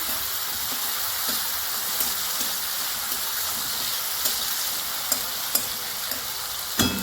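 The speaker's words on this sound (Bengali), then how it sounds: "একটু নাড়াচাড়া করে দিচ্ছি" Egg mustard curry with grated garlic is stirred in a sizzling pan, a continuous hiss of frying broken by scattered spatula taps and scrapes. It is close and fairly loud, with no voices.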